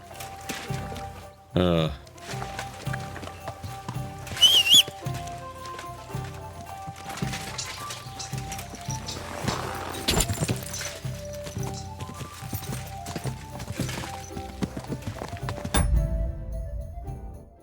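Horse hooves clip-clop in Kingdom Come Deliverance 2, rhythmic and moderately close, mixed with in-game music, scattered effects and voices talking.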